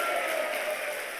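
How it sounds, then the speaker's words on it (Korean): Church congregation clapping during an evening revival service, a brief dense wash of applause, steady and fairly close, with no break in the sound. "다 같이 영광받게 합당하신 하나님께 영광의 박수입니다"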